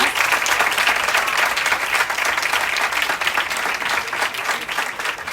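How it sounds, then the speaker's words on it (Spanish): An audience at a talk applauds a speaker, a dense burst of clapping from a crowd that stays loud and even for several seconds, with no talking over it. "Un aplauso para Tomás"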